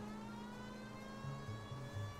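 Low, steady car engine drone in the video game L.A. Noire, a period vintage car being driven, with a constant hum and a few louder engine swells near the end, no talk.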